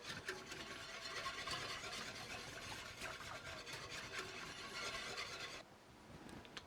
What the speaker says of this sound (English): Whisk it a little bit.